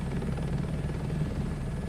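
A helicopter in the flight combat simulator DCS gives a steady, loud rotor thrum and engine drone, continuous and unchanging throughout, with no voices.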